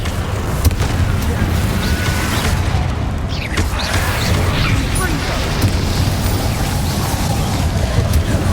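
A Confringo fire spell in Hogwarts Legacy bursts into a rumbling explosion with crackling debris and magical whooshes, sustained loud game combat noise throughout and a voice calling out in the mix.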